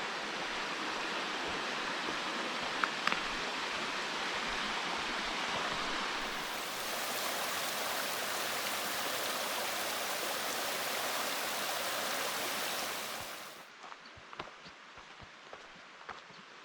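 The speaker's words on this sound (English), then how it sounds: "And we're hearing another creek here." A forest creek in North Cascades National Park, Washington, rushes steadily in late September, a dense broadband wash of flowing water heard up close and alone, then abruptly dropping to a quieter, more distant trickle near the end.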